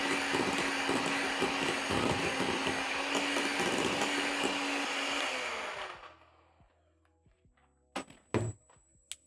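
An electric mixer beats coconut cake batter with a steady, loud whir for about six seconds, then switches off and winds down, followed by a few sharp knocks and clatters against the bowl.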